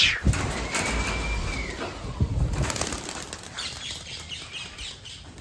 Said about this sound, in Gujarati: કબૂતર ખોઈલા છે બધાને, અને આજ તો ઉડાડવાનું મન છે